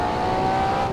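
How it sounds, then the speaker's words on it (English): A Ferrari race car in the Assetto Corsa racing game holds a steady, loud engine drone with a faint hint of tire squeal, filling the brief moment without any voices. "Once again, strange noises from the engine."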